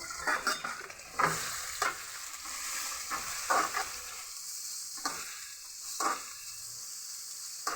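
Onions for egg bhurji fry in a pan with a constant sizzling hiss, broken by repeated scraping stirs of a spoon at an irregular pace, close by and without speech.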